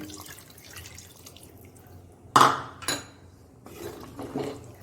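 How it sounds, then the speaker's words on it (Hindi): Water splashes into a pot of dhaba-style chicken handi masala in one sharp burst with a smaller second pour, followed by faint clinks and stirring against a quiet kitchen background. "हम पानी डालेंगे।"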